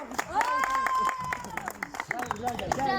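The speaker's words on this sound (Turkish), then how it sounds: "Arkadaşlar alkışlar." Classmates clap at an end-of-term awards moment for a tourism and recreation class, brisk clapping running under a voice talking over it.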